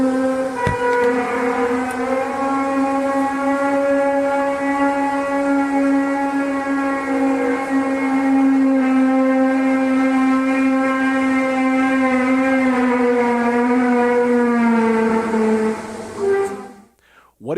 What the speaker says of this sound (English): captured a sound that sounds a little bit like a brass section, the brass section of an orchestra warming up